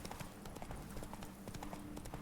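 Roach the horse trotting in The Witcher 3: Blood and Wine, a steady run of crisp, close hoof clip-clops on the ground, with no talk over it.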